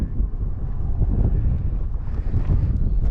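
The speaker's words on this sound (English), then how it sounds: "it's very breezy out here" Steady wind gusting outdoors at a Salida KOA campground beside a camper, a continuous low buffeting rumble against the microphone with no voices.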